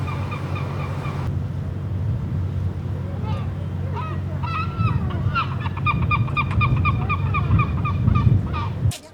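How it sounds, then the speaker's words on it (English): Seagulls crying at a large fishing port, repeated harsh calls over a steady low hum of boat engines and harbor noise, fairly close and persistent throughout. "You can hear the cries of seagulls."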